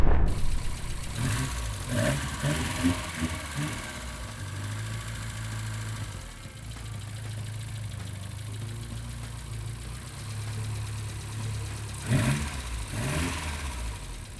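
A Mazda Miata with an aftermarket turbo kit runs steadily at idle nearby, its low engine drone continuous throughout, with a brief rev near the start and a faint blip near the end.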